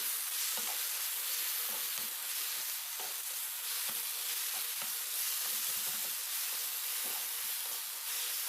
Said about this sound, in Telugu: కదుపుకుంటూ మనం ఆకులన్నీ దగ్గర పడేదాకా ఈ విధంగా కుక్ చేసుకోవాలి